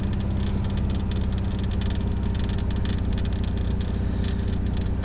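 A cold air-cooled VW engine idles choppily with no choke, giving a steady, close, uneven rumble with a rapid lumpy pulse and no talking.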